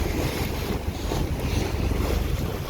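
Sailboat underway with its big sail up on a windy day near Tallinn, Estonia, a steady broadband rush of wind and water hiss with wind buffeting the microphone throughout, no voices.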